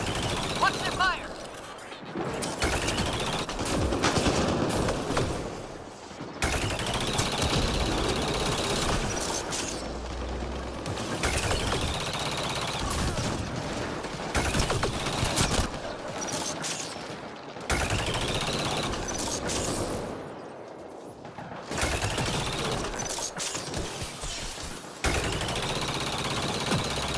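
Enemy gunfire in a Mass Effect Andromeda PvE strike force mission: long, steady stretches of automatic shots and rattling bursts, cut by brief pauses, with voices speaking over the combat.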